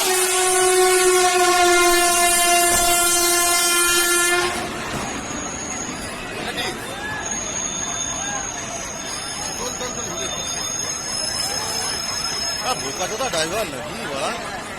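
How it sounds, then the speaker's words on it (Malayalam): Train passing a busy level crossing near Khardaha station in West Bengal, opening with a long, loud, sustained horn blast, then a rushing rumble of passing carriages with higher squeals and clanks, while a voice talks over it. "ട്രാക്കിലേക്ക് കയറ്റിയ കാർ ട്രെയിനിടിച്ച് തകർന്നു"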